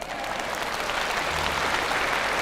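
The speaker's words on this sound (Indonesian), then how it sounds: "Mana tepuk tangan?" Sustained applause from an audience at a religious lecture on prayer, a thick, even wash of clapping that continues without break at a fairly loud, close level.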